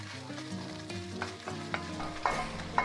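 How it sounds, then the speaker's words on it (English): Beef and green onion whites fry together in a pot for Mongolian beef pasta, giving a quiet continuous sizzle with periodic spatula scrapes and taps over a low background hum. "I'm going to take the whites of the green onion, and I'm going to cook this with this batch of meat."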